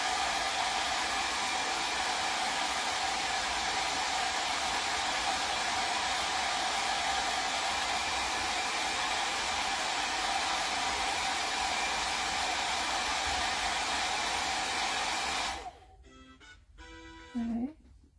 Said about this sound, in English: now I'm going to dry that real quick